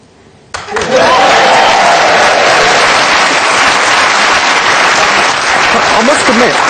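A group bursts into loud, rapturous applause for a reveal, starting abruptly after a quiet moment and holding at full, dense strength throughout, with a few voices mixed in.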